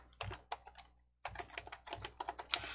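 A file name being typed on a computer keyboard, with quick irregular clicks of the keys in two short bursts separated by a brief pause, close and fairly quiet.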